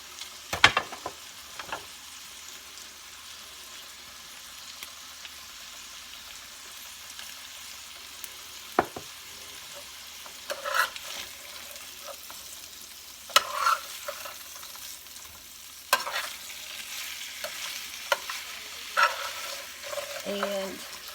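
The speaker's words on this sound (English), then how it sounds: "And I may just go ahead and brown this for a few minutes" Salted and peppered chicken for garlic parmesan chicken browns in a pan with a steady low sizzle, broken by occasional scrapes and stirring clatter.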